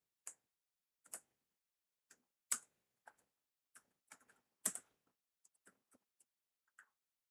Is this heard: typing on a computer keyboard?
yes